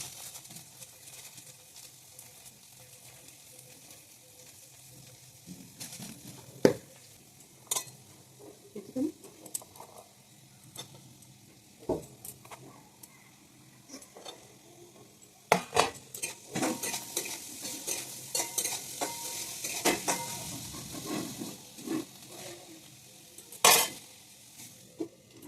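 Beans frying with salt in a pan: a faint sizzle under irregular clatter, scraping and clinks of a utensil against the pan, close and intermittent over a long stretch, with occasional louder knocks.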